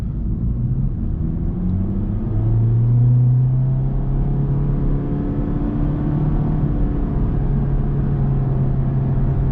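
A 2022 Honda Civic Sport with a CVT gives a steady, loud interior engine drone, its pitch rising and falling gently as it revs under load on the road.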